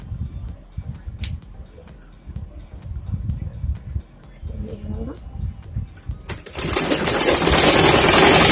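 Sewing machine stitching a kurta runs in rapid mechanical bursts under a woman's ongoing Hindi explanation, followed by a louder, steady whirring hiss toward the end.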